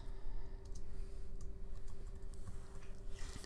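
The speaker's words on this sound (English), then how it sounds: "so you would just type your name into the box" A name being typed on a computer keyboard, with soft, quick key clicks in a loose irregular rhythm, close but faint over a steady low electrical hum.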